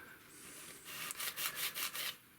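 Fine sandpaper rubs over the body of a Squier Stratocaster electric guitar in a few light, quick back-and-forth strokes, soft and close, with no talking.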